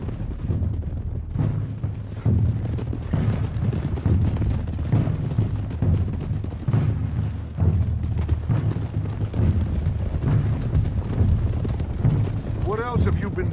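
Several horses gallop together in the Red Dead Redemption 2 video game, making a dense, continuous thunder of hoofbeats. The galloping is loud and close, and a voice speaks briefly near the end.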